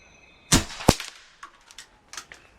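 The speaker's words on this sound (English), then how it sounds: "start shooting some groups, check some velocities, and see how this thing goes" An unregulated airgun fires a sharp shot, with a second crisp crack right after, then lighter clicks and small mechanical knocks follow, close and clear, with no talk.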